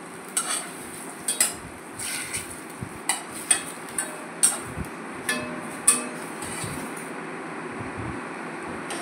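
Tender green mangoes cook with spice tempering and a little water in a pan, a low simmering hiss under repeated sharp clinks and scrapes of a utensil stirring against the metal, close and without speech.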